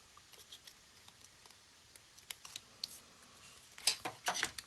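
Scissors trimming the corners off a piece of cardstock paper, a quiet run of small snips and taps that grows into a few louder, crisp cuts near the end, with no talking.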